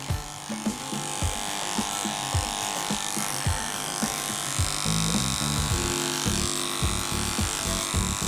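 Electric clippers buzz close up while grooming a dog's leg, a steady motor hum broken by repeated short strokes and small bumps as the blade moves through fur.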